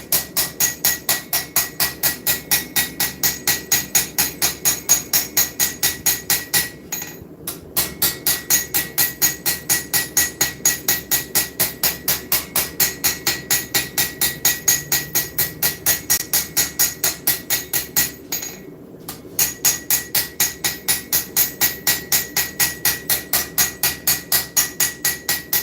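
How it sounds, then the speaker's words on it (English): Steel forged by hand with a hammer, struck in a steady rapid rhythm of loud ringing blows, close up, with two brief pauses between bursts. "See, I'm moving the steel, not my hammer around."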